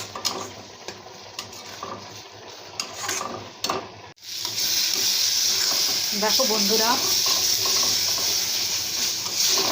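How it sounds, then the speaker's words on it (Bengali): Masala spices with salt and turmeric fry in oil in a kadai for a paneer dish, giving a loud continuous sizzle with scraping stirring strokes. A voice speaks briefly at the start before the hiss swells. "যতক্ষণ না মশলা থেকে তেল বেরিয়ে আসবে ততক্ষণ এই মশলা ভাজা ভাজা করে যেতে হবে।"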